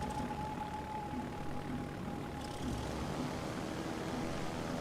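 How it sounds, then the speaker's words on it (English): German carrier torpedo bombers in World of Warships Legends give a continuous droning propeller-engine hum with a faint steady whine, held at an even, moderate level throughout. "I'm on the torpedo bombers now."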